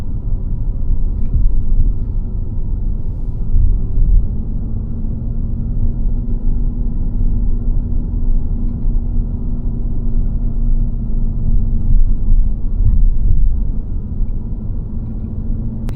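A car rolls slowly over a speed bump during a driving lesson, its engine a steady low rumble that hums close and even throughout with no voices.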